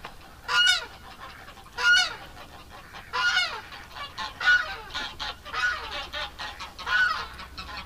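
Domestic ducks being herded on a homestead give loud, repeated honking quacks at roughly regular intervals, close by, with no talk over them.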